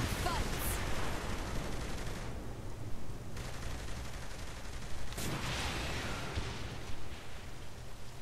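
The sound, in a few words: rocket launcher firing in video game Saints Row 3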